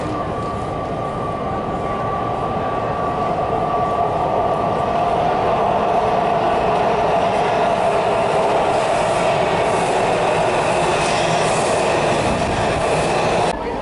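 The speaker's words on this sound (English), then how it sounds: "the train's arriving as I speak" A Washington DC Metro train pulls into a station, a continuous loud rumbling roar of wheels on rails with a faint squealing tone, steady throughout as it arrives.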